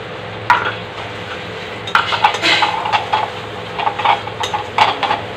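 A spoon stirs masala with tomato purée in a pan for a rohu fish curry, giving intermittent close scraping and clinks over a soft, low sizzle, with no talking.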